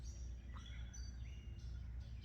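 Small birds chitter and chirp outdoors, a few short high calls scattered over a constant low background rumble, fairly faint and somewhat distant.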